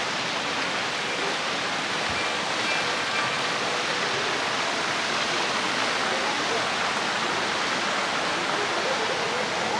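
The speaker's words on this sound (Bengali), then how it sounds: "এই দেখো ঝর্ণার জল নামছে, দেখো।" Water gushing steadily from the many stone spouts at Muktinath temple in Nepal, a dense, loud and unbroken rushing splash that fills the whole scene.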